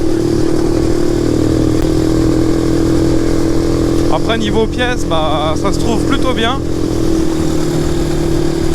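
A Shineray 250 quad bike engine drones steadily while riding, a continuous low mechanical hum running the whole time beneath someone talking.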